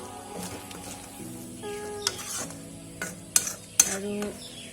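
A spoon stirs spiced goat tripe with garam masala in a frying pan, scraping and clinking against the metal in uneven strokes with a few sharper knocks, close up and moderately loud, with no talking.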